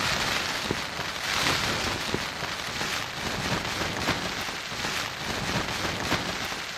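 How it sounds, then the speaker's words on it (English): Torrential rain pours down on the West Coast of New Zealand's South Island, making a dense, continuous hiss of heavy drops that stays loud and steady from start to finish with no voices. "Then it's torrential, it's raining."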